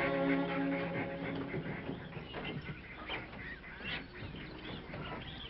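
Many farm ducks honk and quack together in a noisy flock, close and continuous, with an overlapping chorus of calls.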